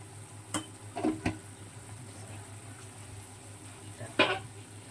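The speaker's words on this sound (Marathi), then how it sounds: "धना पावडर आणि जो गरम मसाला चांगला असं हलवून घ्यायचं" Turmeric, coriander powder and garam masala are stirred in a pan for a mixed vegetable dish, with a few sparse spoon scrapes and taps over a faint steady sizzle and hum.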